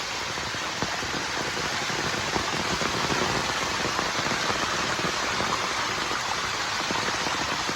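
Heavy rain pours down steadily, a dense, loud broadband hiss with constant patter on surfaces, unbroken for the whole stretch and with no voices.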